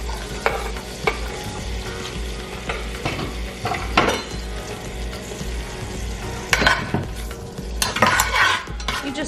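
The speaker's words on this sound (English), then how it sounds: "You just saute the onion for a couple of minutes." Onion sautéing in a pan for Mexican rice and beans, a close, continuous sizzle overlaid with stirring scrapes and metal utensil clatter against the pan.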